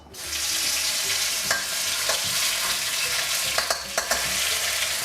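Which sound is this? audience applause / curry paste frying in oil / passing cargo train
curry paste frying in oil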